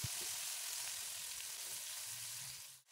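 Tomatoes sauté in a pan with squid, a soft, steady sizzle and light crackle that continues evenly before cutting off at the end.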